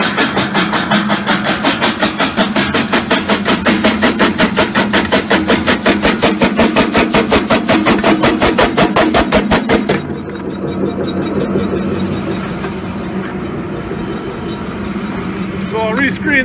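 A small jaw crusher choke-fed with stone bricks at once, crushing the oversized half-inch-and-larger pieces for a finer crush, grinds with a dense, rapid rhythmic clatter that drops to a softer steady rumble partway through.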